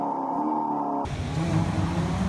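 A red Audi RS5 race car launching at a race start, its engine note cutting abruptly into a loud, dense roar of revving engines and a nearby pack of cars, close and sustained.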